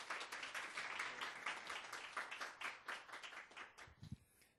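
Quiet applause from a seated audience at a corporate book-talk event, steady overlapping clapping for about four seconds, recorded faintly from a distance, ending with a couple of louder claps.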